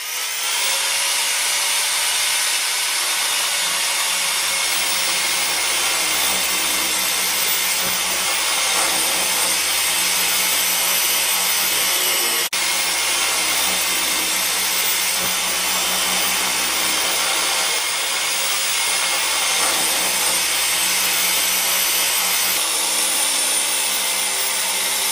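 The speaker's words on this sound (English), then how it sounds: "this is a diamond rotor bit, and it's going to give it a full bull nose" A diamond router bit grinds a stone countertop edge into a full bullnose, giving a loud, steady, continuous high whine with a broadband grinding hiss, close and unbroken throughout with no voices.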